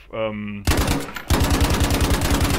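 Rapid automatic gunfire from a weapon in the shooter game Battlefield V, loud close bursts of evenly spaced shots that pause briefly and then resume in a sustained stream.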